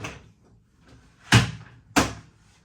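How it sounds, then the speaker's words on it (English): The plastic doors of a Philips Perfect Draft home beer machine are shut in two sharp, close knocks about half a second apart, after a few faint handling rustles. "close your doors."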